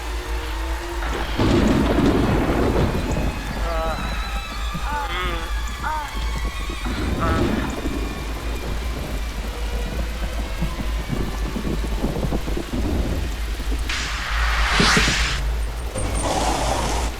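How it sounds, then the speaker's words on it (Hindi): Heavy rain pours steadily with thunder rumbling through, a louder crack and roll of thunder near the end, and muffled voices faintly under the storm. "ऐसी ही बारिश उस रात भी थी।"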